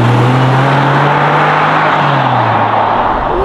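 A Ferrari accelerates hard in third gear, its engine a loud, close, sustained roar with a steady rising drone that eases slightly near the end; no talking over it.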